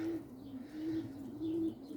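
A pigeon coos in low, rolling phrases, repeated close by, with faint chirps in the background.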